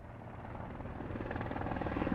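A helicopter flying in Yakuza 4 Remastered: a steady rotor drone that swells slightly louder over the short stretch, with no voices present.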